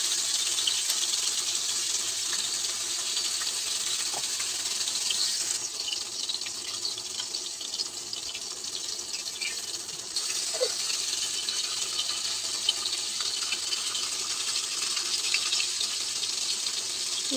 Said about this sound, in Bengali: মাছটা দিয়ে এবার আমি ভালো মতো এপিঠ ওপিঠ ভালো মতো ভেজে নেব।